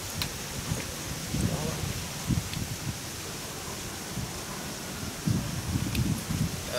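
Wind blows outdoors at a rural Mekong Delta meal of spicy snails boiled with lemongrass, a continuous hiss with gusty swells, and voices murmur faintly underneath.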